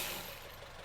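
A 2010 Honda Civic 1.4 i-VTEC engine idling roughly with a misfire, heard as a steady, uneven broadband rumble with faint irregular knocking, fairly quiet and with no talk over it.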